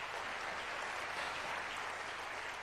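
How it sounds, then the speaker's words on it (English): Faint, steady applause from an audience at a talk, a uniform wash of distant clapping that holds evenly throughout with no voices over it. "Give him a round of applause."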